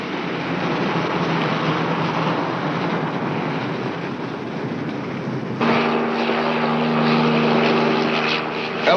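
A police patrol helicopter drones overhead in a steady, loud engine and rotor roar, shifting partway through to a harsher tone with a sustained hum layered over it.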